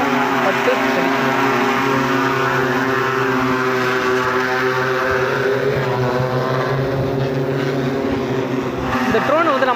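An agricultural spraying drone hovers over a paddy field dispensing pesticide, its propellers making a steady, loud, close whirring drone with layered harmonic hum that holds constant throughout.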